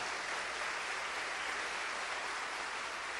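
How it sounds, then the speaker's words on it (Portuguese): A church congregation applauds with dense, steady clapping for a few seconds, heard somewhat quietly from a distance. "Vamos aplaudir o nosso Deus bem forte"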